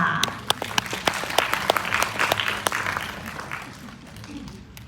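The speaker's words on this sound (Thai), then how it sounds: "ขอเสียงปรบมือให้ด้วยค่ะ" A crowd applauds to welcome the provincial governor of Udon Thani at a gathering, with sharp individual claps standing out over a dense wash that swells, then gradually thins and fades toward the end.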